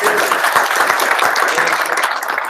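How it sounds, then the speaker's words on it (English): Audience applause at the close of a conference breakout session, a dense, steady wash of clapping from many hands throughout, fairly loud and close. "And a round of applause for all of you guys."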